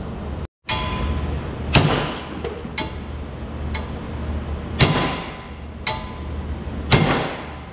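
Sharp metallic hammer strikes on a Honda FourTrax 300 ATV part land one at a time at irregular intervals, a handful of loud blows with quieter taps between, close by with no talking.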